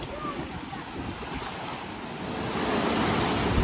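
Sea waves wash onto a rocky shore under gusting wind, a continuous dense surf roar that grows a little louder toward the end, with no voices.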